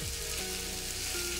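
A pork chop fries in a pan at a campsite, giving a steady, dense sizzle that stays loud and continuous throughout the short stretch, with no talking over it.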